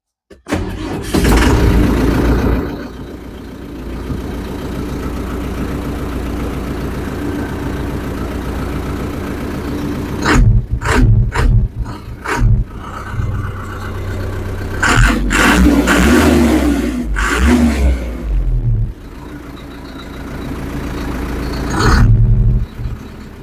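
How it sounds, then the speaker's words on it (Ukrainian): A warm Skaut TV-904C tractor's diesel engine cranks and catches, settling into a steady loud idle with a few revs and clunks along the way, no talking. "дивіться, він же трактор теплий, заводиться от він"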